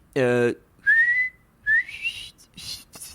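Several short whistled notes, thin and uneven, with a few rising pitches between breathy gaps, close to the listener and starting after a brief vocal sound.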